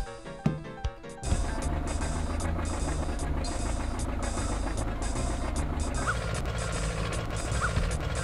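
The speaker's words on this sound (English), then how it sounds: "there's an annoying rooster outside my house and it's driving me mad" A rooster crows outside a house, faint and partly buried under a loud, steady wash of background noise.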